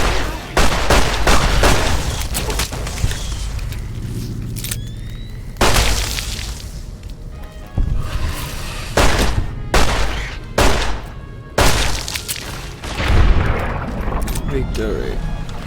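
Repeated loud gunfire in Fallout New Vegas, sharp shots and bursts hitting close at irregular intervals, mixed with explosions and combat noise and someone talking over it.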